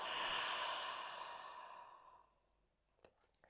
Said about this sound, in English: Breath out.